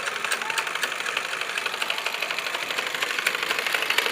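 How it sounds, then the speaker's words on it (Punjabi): A repaired household sewing machine runs continuously at speed, giving a steady, close, rapid mechanical chatter with no talk. "ਧੂੜਾਂ ਪੱਟ ਦਿੱਤੀਆਂ ਨੇ ਕਿ ਮਸ਼ੀਨ ਠੀਕ ਹੋ ਗਈ ਹੈ ਜੀ, ਜ਼ਬਰਦਸਤ"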